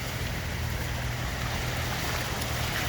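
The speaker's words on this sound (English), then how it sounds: "Look at them waves, look." On a flooded road, water surges and splashes in a continuous broad wash, steady and fairly loud, mixed with wind rumble and no talking.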